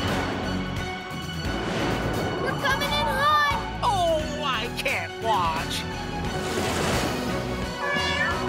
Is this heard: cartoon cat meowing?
yes